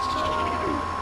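A bird in The Legend of Zelda: Twilight Princess coos softly over a steady, dense game soundscape, with one brief call rising midway.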